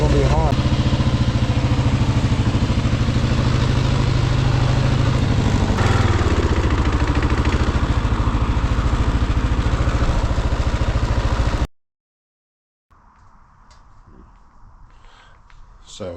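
A 2022 Kawasaki KLR 650 motorcycle engine idles with a loud, steady, close-up drone. It cuts off abruptly after about eleven seconds, leaving silence and then faint background noise.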